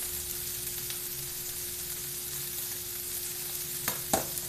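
Frozen vegetables stir-fry in a pan with a steady, close sizzling hiss throughout, broken near the end by a couple of brief scraping stirs of the spatula; no one speaks.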